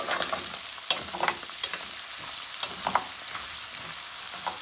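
Onions sizzle in hot oil in a pan alongside crisping smoked fish, a steady close frying hiss broken by occasional scrapes and knocks of stirring.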